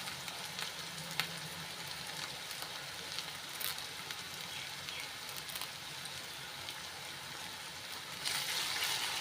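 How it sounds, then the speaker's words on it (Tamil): Ginger and green chillies sauté in hot oil for Kerala inji puli, producing a soft, continuous sizzle that swells slightly louder near the end, with no voices. "இந்த எண்ணெயிலே இஞ்சியும் பச்சை மிளகாவும் நல்லா வதங்கி வரணும்."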